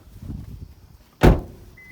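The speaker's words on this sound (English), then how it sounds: "Let me pop the gas door." The fuel filler door on a 2005 Toyota Prius pops open with a single sharp, close click-thunk after a brief quiet shuffle, followed by a faint electronic beep.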